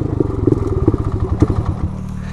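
An old 400 quad ATV engine runs close after a choke adjustment, a loud, uneven, pulsing putter with thumping firing beats that settles toward a steadier idle.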